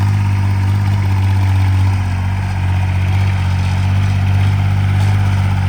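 A homemade 26 hp tractor engine idles close by with a steady, loud, low throbbing drone that holds even throughout, with no voices over it.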